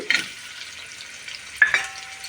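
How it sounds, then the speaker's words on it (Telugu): Onions dropped into a pan with whole garam masala and bay leaves set off two short bursts of frying sizzle, then a quiet crackle between them. No one speaks. "ఇప్పుడు ఇందులో మనం ఫస్ట్ వేయాల్సింది ఆనియన్స్"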